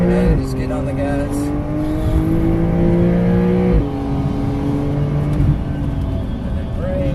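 A Porsche 992.1 Carrera S accelerates hard around a track at APEX Motor Club, heard from inside the car as a loud rising engine note that climbs, drops briefly at a shift and climbs again.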